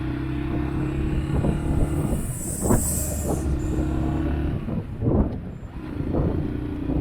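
A new Mondial Vulture i 125 motorcycle engine drones steadily while being ridden on the road, a loud continuous hum with wind rush and a few louder surges.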